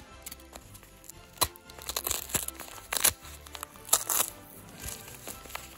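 Scissors snipping and crinkling through advent calendar packaging, a series of soft, irregular crunching and tearing sounds close by and fairly quiet.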